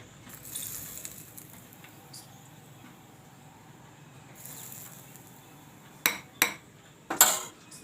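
A spoon stirs hot oil into moong bhajiya batter in a bowl, with soft, faint mixing sounds followed by a few sharp, close metallic clinks near the end.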